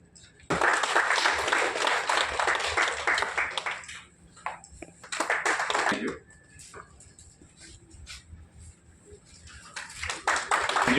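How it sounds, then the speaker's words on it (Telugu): Audience applause at a felicitation ceremony, heard as a loud burst of clapping, a shorter second burst and a third starting near the end, with quieter room sound in between. "అందరూ చప్పట్లు కొడాలండి."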